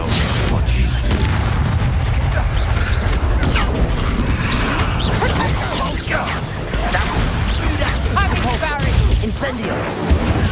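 Confringo spell blasts in Hogwarts Legacy boom and crash repeatedly amid dense combat effects and music, loud and continuous, with voices shouting throughout.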